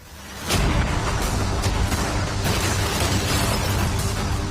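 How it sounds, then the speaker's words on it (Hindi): A cannon fires at a yacht during an outdoor staged challenge, giving a sudden loud boom that becomes a sustained, dense roar lasting several seconds. "भले ही एक कैनन ने उसकी यॉट को हिट किया"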